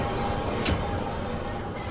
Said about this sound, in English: The trains that operate are the oldest on the network, taking their name from the year they were introduced, 1972 tube stock.